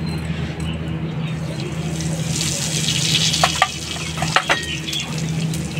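Cumin frying in a little oil in a wok, a low steady sizzle with a few light scrapes and taps from stirring toward the end.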